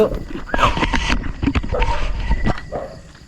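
A dog close by gives a few short barks and whimpers amid loud voices and chatter at a Filipino ghost-hunting outing.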